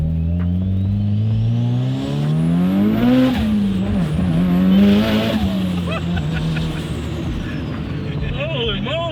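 A 380 kW Mitsubishi EVO 7 with a forged 4G63 straight-four revs hard and climbs through the gears, the loud engine note rising and dropping at each shift, with occupants talking over it.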